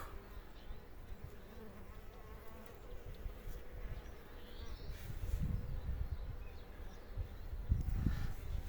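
Osmia cornuta mason bees fly outdoors near fruit trees, a faint, steady buzzing with low passing hums that swell near the end.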